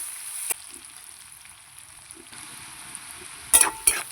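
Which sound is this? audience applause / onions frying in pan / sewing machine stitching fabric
onions frying in pan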